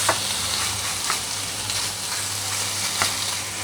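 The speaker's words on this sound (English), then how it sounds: "High heat so we can get the crispy edges, or like sear the meat." Steady, bright sizzling of pork searing in hot oil over high heat, with a few louder crackles popping through the constant hiss.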